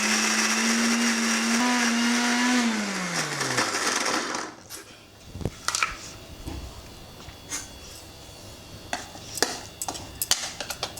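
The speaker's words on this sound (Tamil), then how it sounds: "இப்போ பாருங்கள், வெறும் நெல்லிக்காயை கிரைண்ட் பண்ணுறோம்" A mixer grinder blitzes plain amla (Indian gooseberries) with a loud, steady motor whine for about four seconds, then spins down. Scattered clinks and knocks from the jar follow.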